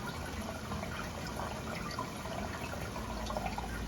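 Water pours steadily into a plant cloner, a continuous quiet splashing and gurgling close by with no talking.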